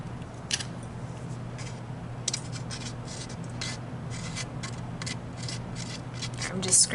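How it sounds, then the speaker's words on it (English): Leftover wax bits are scraped off a spoon with a wooden popsicle stick in a string of short, close, dry rasping strokes that grow busier near the end. "I'm just scraping off the last little bits that were on the spoon"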